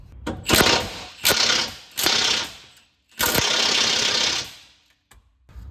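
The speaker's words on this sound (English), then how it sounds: "I'm gonna use the impact with a 19 millimeter socket to try to get the bolt loose." An impact wrench with a 19 mm socket tries to loosen a trailing arm bolt on a Lexus LX470, making loud, close mechanical rattling in several short bursts followed by one longer hammering run, then a few light clicks.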